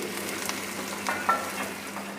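Onions fry in a pan, cooked toward dark brown for a colocasia fry, giving a soft, steady sizzle with light stirring scrapes and small pops.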